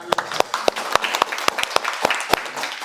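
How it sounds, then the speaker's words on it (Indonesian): Scattered applause from an audience at a public forum, with a few loud individual claps standing out near the front over softer, sparse clapping. "Tepuk tangan dulu dong."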